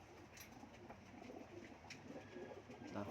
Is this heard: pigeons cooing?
yes